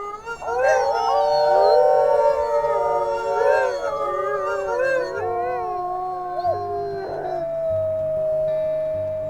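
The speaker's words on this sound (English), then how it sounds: "She howled in excitement and rounded up her large pack." A chorus of wolves howls together in the video game WolfQuest, overlapping, rising and falling tones, fading to one long sustained howl over a low steady drone.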